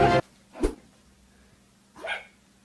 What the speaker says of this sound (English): Is that like someone's dog?